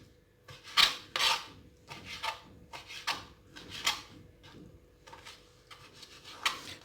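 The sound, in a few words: knife scraping the white layer off a cream dessert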